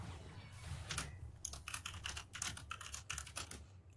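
Typing on a computer keyboard, close and quiet, in rapid irregular bursts of key clicks over a low background hum.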